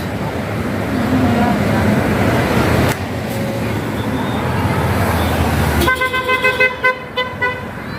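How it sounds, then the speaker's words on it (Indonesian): Passing presidential motorcade of escort and police patrol cars for Jokowi, loud road traffic roar and a run of repeated horn toots near the end, with crowd chatter underneath. "ini mobil pengawalnya, patwalnya nih"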